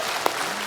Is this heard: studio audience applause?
yes